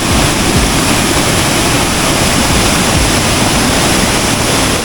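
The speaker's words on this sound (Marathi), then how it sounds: "पाणी बघा किती जोरात फ्लो होतं" Water pours strongly through Gadheshwar dam near Panvel in a loud, steady, unbroken roar of rushing flow, close and alone.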